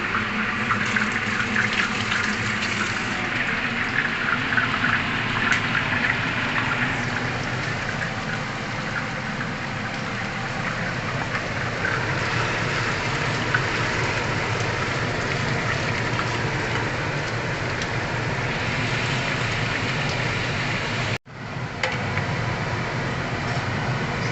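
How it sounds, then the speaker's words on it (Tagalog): Tap water runs steadily into a sink while hands are washed, a continuous close splashing gush with one brief cut near the end. "So, I need to wash my hands."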